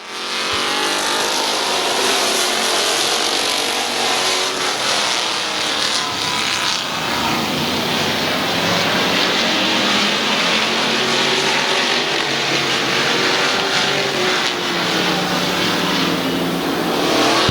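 Race cars roaring around the oval at Midvale Speedway, with engines droning loud and steady and rising and falling in pitch as the pack passes nearby, continuous throughout.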